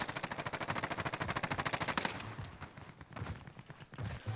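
Rapid automatic gunfire in Call of Duty Warzone, a fast regular burst of shots for about two seconds, then scattered, more distant shots and clatter.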